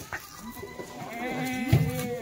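Kathiawari goats unloaded from a truck at a live livestock sale bleat in a few short, wavering calls, with one louder, closer bleat near the end over a busy background.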